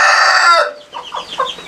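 Rooster crows loudly and close, a sustained harmonic call, then breaks into a series of short clucks from backyard poultry kept for raising.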